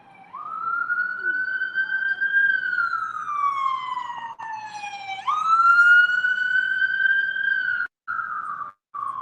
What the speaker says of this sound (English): Don't you miss that noise of the ambulances going by?